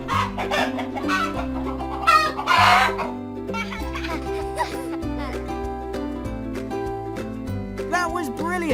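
Cartoon chickens cluck repeatedly in a Topsy and Tim children's farm video game, with several bright clucks and a brief crow over bouncy background music.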